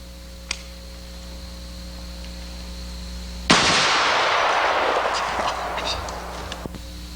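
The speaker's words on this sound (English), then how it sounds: "Let's have a little fun with the carbine." Carbine fired outdoors at birds in midair, a single sharp loud report that rings out into a long decaying echo over a steady low hum, with a few faint clicks before and after.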